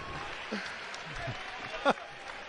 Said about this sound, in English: That had this crowd a buzz.